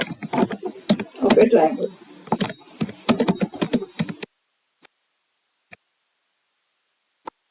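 Clicky rapid typing on a computer keyboard, words being entered into GeoGebra's input bar, runs along under a voice for about four seconds, then a few isolated key taps sound alone in near silence.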